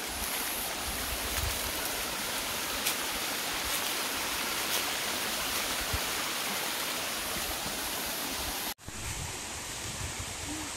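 A waterfall in the Goiás interior near Caiapônia, running with little water in the dry season, gives a steady, continuous rush of falling water that fills the whole stretch, broken only by a brief cut near the end.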